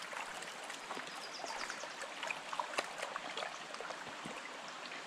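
Shallow creek water in Fern Canyon trickles and burbles steadily around someone wading through it in water shoes, a close, continuous babbling wash with small splashy accents.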